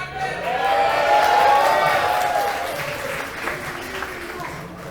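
An audience at a Global Game Jam 2020 showcase claps and cheers steadily, loud at first then gradually thinning, with voices heard over the applause.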